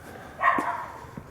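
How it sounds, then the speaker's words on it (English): A neighbor's dog gives a single short bark at a distance, a brief burst that stands out against a quiet outdoor background, followed by faint low sounds. "that's my neighbor's dog, barks constantly"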